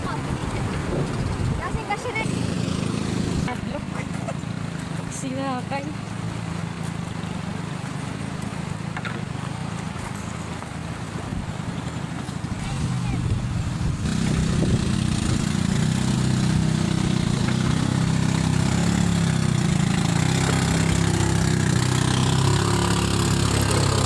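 A pump boat engine runs with a steady loud drone and wind rush that grows fuller partway through, while a voice speaks over it.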